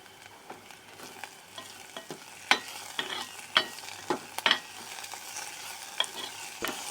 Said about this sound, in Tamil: நாம் சேர்த்திருந்த பெரிய வெங்காயம் கோல்டன் ப்ரௌன் கலர் வர்ற வரைக்கும் நாம் வதக்கிடலாம்